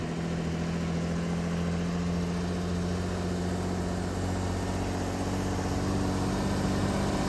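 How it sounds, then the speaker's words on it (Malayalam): A local public transport bus approaching on a mountain road in Mokokchung, Nagaland, its engine a steady low hum growing slightly, fairly faint at first and unbroken, with no voices. "ഇവിടുത്തെ ഒരു പബ്ലിക് ട്രാൻസ്പോർട്ട് ബസ് വരുന്നുണ്ട് കേട്ടോ"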